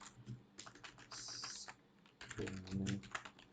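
Java code is typed on a computer keyboard in quick bursts of key clicks, with a short pause partway through before a flurry of faster, louder keystrokes.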